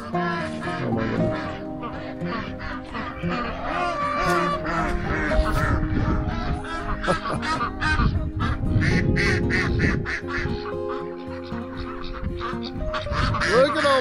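A flock of farmyard fowl calls continuously, with ducks quacking and hens clucking close by in a dense, overlapping chorus that runs the whole time, and a person's voice occasionally mixes in.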